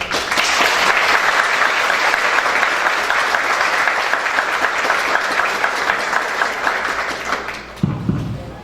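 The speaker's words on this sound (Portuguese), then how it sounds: "Gostaria de todos receber com uma salva de palmas." Loud, dense round of applause from an audience at an anniversary celebration of a Spiritist group, welcoming a guest speaker; sustained clapping for several seconds that thins out near the end as a voice begins.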